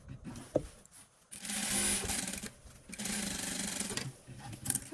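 A sewing machine stitching a dress seam, with two sustained runs of fast close whirring stitches separated by brief pauses and small handling clicks, no voices.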